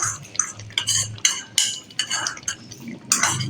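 Spoon scraping and stirring in a pan as yogurt goes into beef karahi, a run of repeated clinks and scrapes with a soft wet undertone, close and fairly loud, no talking.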